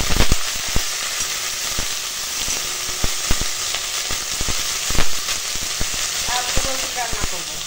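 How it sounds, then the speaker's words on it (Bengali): Pumpkin flowers salted and tossed with turmeric fry in mustard oil with dry chillies in a kadai, a loud continuous close sizzle with frequent sharp crackles and pops and occasional stirring. "এখানে কড়াই সরষের তেল দিয়ে দিয়েছি শুকনো লঙ্কা"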